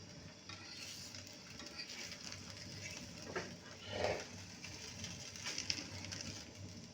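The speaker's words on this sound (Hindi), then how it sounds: "अब ये अपना नान जो है तवे पे फ्राई करके खाएंगे" Naan fries on a hot tawa griddle in a home kitchen, giving a faint, steady sizzle with occasional soft scrapes and stirring clinks, heard at a distance without talk.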